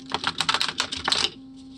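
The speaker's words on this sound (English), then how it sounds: "See how well it shuffles" A deck of cards is shuffled by hand in a quick riffle, making a crisp flutter of rapid clicks for just over a second before a faint background hum remains.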